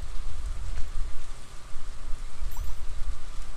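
Steady rain from the video game Stardew Valley falls as a dense, even hiss that stays loud and constant throughout, with no voices over it.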